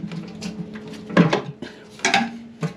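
Metal oil pan being pried loose and removed from a boosted G23BK car engine, giving irregular metallic clanks and scrapes in a few loud bursts, close by with no talking.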